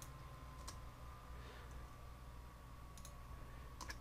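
Computer keyboard keys tapped while entering a command into a router's console: a few sparse, faint clicks spread out over a steady low hum, with no voices.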